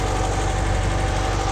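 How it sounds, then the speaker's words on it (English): A Porsche 356 engine fitted with Zenith carburetors idles steadily and evenly, a close, continuous low thrum with no voices over it. "The engine's running great."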